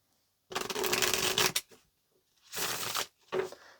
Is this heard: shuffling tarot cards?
yes